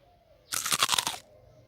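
Paan, betel leaf, being chewed: one close, brief crunchy burst of chewing lasting under a second against a quiet background.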